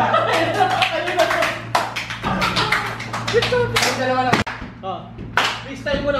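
Group hand clapping during a dance practice, sharp claps in bursts under a steady low hum and talking voices, loud and close.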